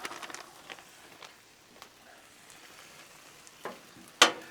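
Rice warms in a pan with butter and garlic, a faint soft sizzle with light scattered stirring scrapes and a sharper clack near the end.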